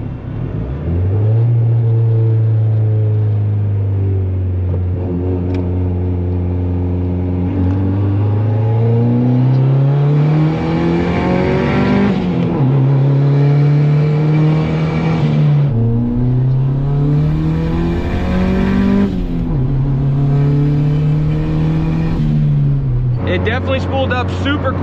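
A turbocharged car running 9 PSI of boost accelerates hard in a loud, close, sustained run, its engine tone rising through several gear pulls with brief dips at the shifts.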